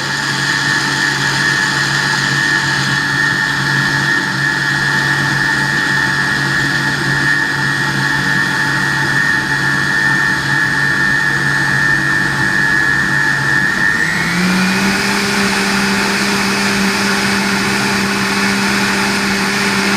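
A kitchen blender runs a soup program while making almond milk, a steady loud motorized whine that holds level, then shifts abruptly upward in pitch partway through as the cycle changes speed.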